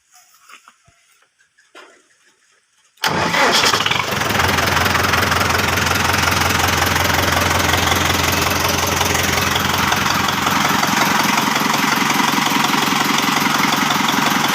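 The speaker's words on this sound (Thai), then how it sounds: "เดี๋ยวจะตัดเครื่องให้ฟัง นะครับ" After a few quiet seconds, the engine of a used 60-horsepower Euro tractor fires up and runs loudly and steadily with a knocking, rattling idle that continues to the end.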